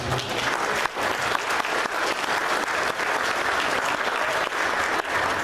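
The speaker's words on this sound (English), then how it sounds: "Would you give a round of applause to whoever all this?" Dense, sustained applause from a banquet-hall audience at a wild game feed dinner, steady clapping filling the room for several seconds with no talking over it.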